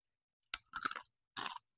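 Original chicharon being chewed up close, three sharp crunchy bites in quick succession separated by short pauses, crisp and clear in an otherwise quiet room.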